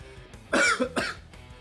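Two quick, sharp coughs in close succession, loud and close, with no talking around them.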